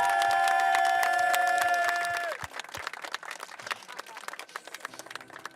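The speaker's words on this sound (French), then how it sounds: "Un tonnerre d'applaudissements pour Dany, s'il vous plaît" Audience applause and cheering for a performer at a televised talent-show audition: a held musical chord fades out after two seconds, leaving a steady wash of clapping from a large crowd that continues to the end.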